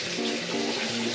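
Water from a bathroom tap runs in a steady, continuous stream while hands are being washed beneath it, with no voices.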